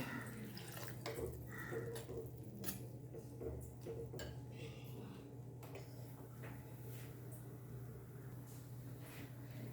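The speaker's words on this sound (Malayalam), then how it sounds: "ഇനി നമുക്ക് 1 ഗ്ലാസ് സാദാ വെള്ളവും" Plain water is poured into a pot of drumstick leaves simmering in rice water; a faint, steady pouring trickle with soft clinks of the pot comes through low background hum.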